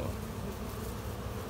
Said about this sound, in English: So the bees are back.